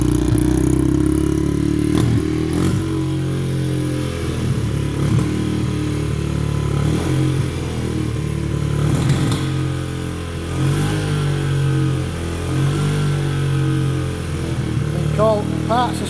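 A 2004 Honda CRF70 small motorcycle engine runs steadily after a kick start, a continuous buzzing idle with slight revs, close by, with people talking over it.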